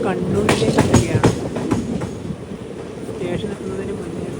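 Moving train heading toward Kannur, close and loud, with rhythmic clickety-clack wheel beats over a constant rail rumble.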